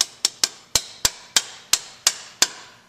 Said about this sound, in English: I'm not hitting the pad, I'm hitting the metal behind the pad.